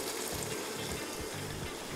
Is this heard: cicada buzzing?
no